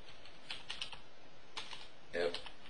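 Terminal commands are typed on a computer keyboard in a few short, close bursts of soft clicking keystrokes separated by brief pauses.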